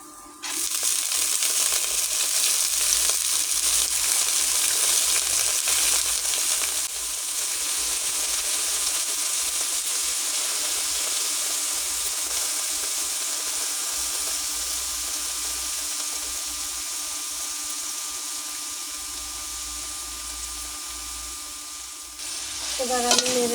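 Chopped radish greens hit hot oil in a wok with onions already fried red, giving a loud, steady sizzle that stays strong for about twenty seconds, with scraping and stirring sounds heard throughout.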